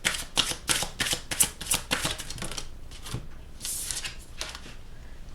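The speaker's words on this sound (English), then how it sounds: "I'm just going to shuffle this out" Rapid riffling bursts of tarot cards being shuffled, several quick flutters in a row, then a softer pause and a couple more close riffles.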